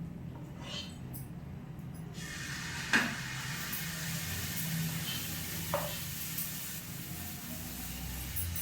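Jaggery and wheat flour pancake frying in ghee on a pan gives a steady, moderately loud sizzle throughout, with a couple of brief clicks near the start and midway.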